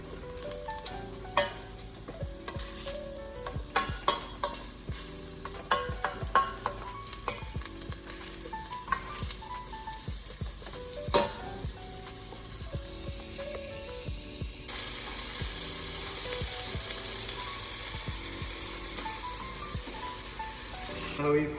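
Onions and garlic sauté in oil for a vegetarian chili, a continuous close sizzle punctuated by frequent scraping stirs and clicks, growing into a denser, steadier hiss in the later part.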